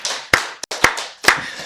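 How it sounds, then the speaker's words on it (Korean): Church congregation at a Wednesday service clapping, with sharp hand claps landing in a loose rhythm, close and loud, about four distinct claps in under two seconds. "우리 박수로 하나님께 영광 드리겠습니다."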